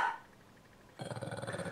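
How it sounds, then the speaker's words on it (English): A strong mountain dog barks in a quick series of close, fairly loud woofs, the run of rhythmic barks starting suddenly after a quieter stretch. "You're just a wee strong mountain dog."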